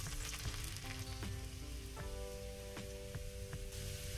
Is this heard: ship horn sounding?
no